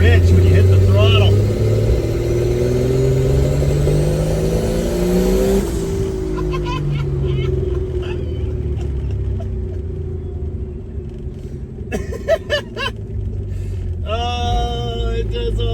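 A turbocharged Slant Six car engine revs loudly and runs rich after a cylinder head overhaul, its rumble rising and falling up close, with people talking over it.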